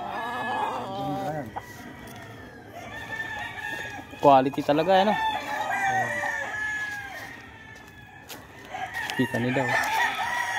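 Roosters crow and hens cluck among fighting-cock stock at a farm in Tanay, Rizal, with repeated crows rising over a steady flock murmur while someone talks nearby.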